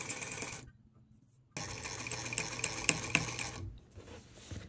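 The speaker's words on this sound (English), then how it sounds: "Take to sewing machine and stitch at sides only." A sewing machine runs in two bursts, stitching the sides of a patch pocket with a fast, steady whirring rattle, a short pause between runs and a brief third start at the end.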